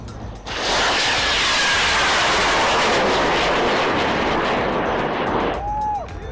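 Student-built rocket launching in a NASA team challenge, a sudden, loud, sustained roaring rush of broadband noise that holds steady for about five seconds before cutting off, with no voices over it.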